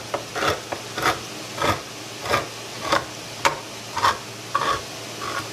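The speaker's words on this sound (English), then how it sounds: "let's open this tomato tin." A tin of chopped tomatoes is opened with a can opener, giving about ten evenly spaced scraping, grinding bursts, close and fairly loud, with no talking.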